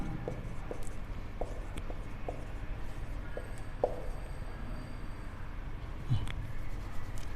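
Marker strokes on a board during a class-12 determinant lesson: faint, scattered scratches and taps at an irregular pace in a quiet room, with little or no talk.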